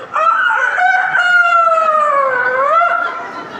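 A voice imitates a rooster crowing during a religious sermon, a single long, loud, wavering cock-a-doodle-doo call lasting about three seconds with no other speech.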